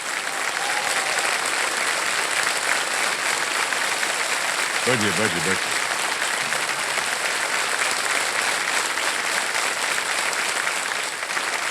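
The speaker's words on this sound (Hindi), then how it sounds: "बैठिए, तालियां बज जाए इनके लिए।" Steady, dense studio audience applause for a contestant on a TV quiz show, sustained at an even level throughout while a host's voice speaks over it.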